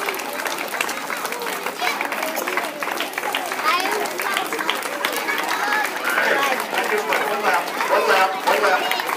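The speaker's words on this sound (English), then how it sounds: "let's give everybody a big round of applause." Audience applause at a family gathering: dense, steady clapping that holds throughout, with crowd chatter and voices mixed underneath.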